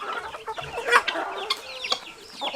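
Chickens on a mixed farm cluck and squawk close by in short, irregular bursts, several birds calling over one another with no talk.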